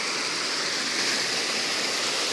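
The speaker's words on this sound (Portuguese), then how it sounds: "cachoeira" A waterfall roars as a steady, dense rush of falling water, loud and continuous with no pauses.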